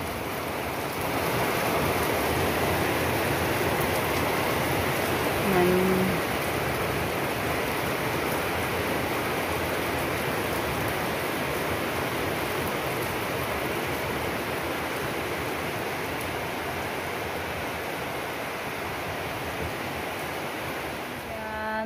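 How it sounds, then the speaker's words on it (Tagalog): Steady rain pours down after a hot spell, a dense, even hiss of drops that holds without pause for over twenty seconds, with no voices over it. "Bigla lang umulan mga kaibigan."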